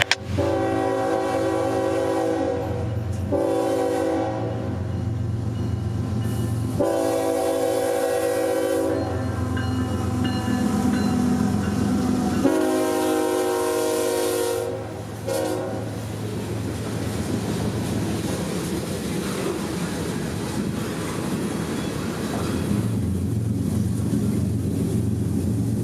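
A CSX freight train rolls past on the Tampa district line, loud and close, its horn sounding in several long blasts over a steady rumble of wheels and rail cars that carries on after the horn stops.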